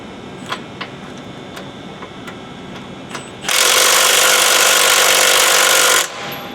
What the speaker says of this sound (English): I'll go ahead and tighten the 1/2 inch bolt up to 80 foot-pounds